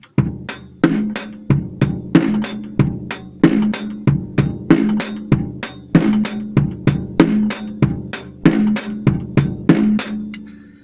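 A close drum kit plays a classic funk groove on its own. Sharp bright strikes drive a steady, syncopated pattern that repeats evenly throughout, with punchy low hits underneath and no voices.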